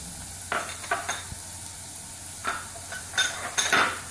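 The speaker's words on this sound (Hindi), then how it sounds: "प्याज और लहसुन हमारा फ्राई हो चुका है। अब हम इसमें ज़ीरा शामिल करेंगे, 1 टीस्पून ज़ीरा शामिल करेंगे।" Cumin added to onion and garlic frying in a pan, a soft steady sizzle with scattered stirring scrapes and light clinks of a utensil against the pan.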